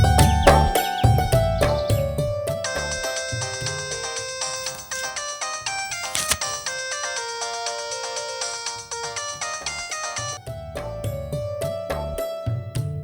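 A phone ringtone plays as a melodic electronic tune, steady and fairly loud, repeating for the whole stretch with no one talking over it, while a call is placed to a father.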